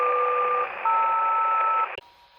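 A cell phone signal picked up on a DeepSDR 101 clone SDR radio comes through as a steady buzzing, hissing tone with faint shifting pitches, broken by a sharp click near the end.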